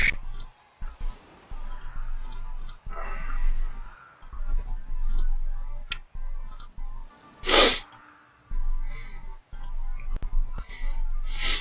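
A single sharp sneeze bursts out loud and close midway, set against sparse clicks and quiet room noise, with no one talking.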